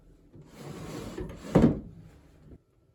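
A bottom drawer of a homeschool storage unit slides open or shut with a close, rubbing wooden scrape that builds to a brief louder knock before the sound stops.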